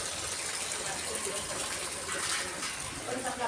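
Steady rain pouring down outdoors during a heavy summer downpour, a dense continuous wash of noise with no breaks, close and fairly loud throughout.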